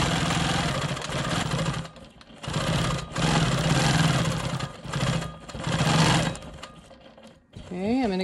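Close, loud mechanical whirring of a Quilt Maker Pro 20 quilting machine stitching smoky swirls, running in several sustained bursts separated by brief pauses, with a short stop near the end before a faint tonal chirp.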